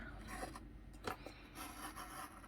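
Scissors or a craft blade cutting patterned paper for a handmade Hawaiian shirt card, a soft rasping scrape with a few brief strokes, close and fairly quiet.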